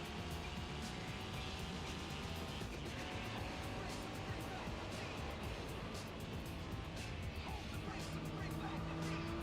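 Race cars driving in Gran Turismo 4, chasing an RX-8, with a continuous loud engine roar and tire noise throughout, interspersed with brief squeals.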